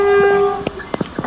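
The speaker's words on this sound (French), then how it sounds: "si tu passes devant un train qui va klaxonner 2 fois" A locomotive horn in a realistic train simulator blares one long, loud tone that cuts off, followed by a few short clanks and rumbles.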